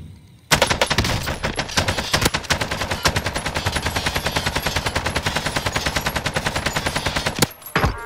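Sustained automatic AK-47 fire in Call of Duty: Modern Warfare, a loud, dense stream of rapid shots running nearly eight seconds with a brief pause near the end.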